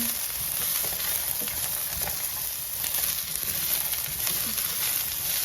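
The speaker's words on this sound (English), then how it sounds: "And we saute 1 minute, about the 1 minute, until like golden soft" Garlic cloves and ginger sizzle steadily in a pan for a coconut pepper curry, a dense, continuous frying hiss with faint crackles throughout and no talking.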